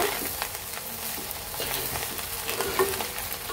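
Vegetables with a spoonful of soy sauce being stirred in a frying pan, a steady close sizzle with scraping stir strokes throughout and no talking.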